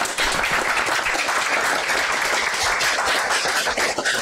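Audience applause honoring medical residents at a Brazilian cardiology session on chronic coronary syndromes, a dense, steady wash of clapping lasting the whole stretch with no voices over it.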